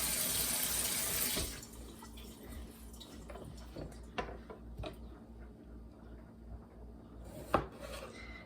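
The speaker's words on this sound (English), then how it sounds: "Give it a quick rinse here." Tomatoes rinsed under a running kitchen tap: a steady splash of water for the first second or so, then the tap shuts off, leaving soft drips, rubbing and a few handling knocks nearby.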